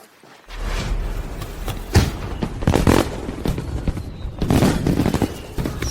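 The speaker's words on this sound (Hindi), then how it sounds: "दिन दहाड़े पटाखे छोड़ रहे हैं" Firecrackers set off by the groom's party arriving at a wedding crackle and pop in loud, broadband bursts over several seconds, with sharp transients amid a continuous noisy din.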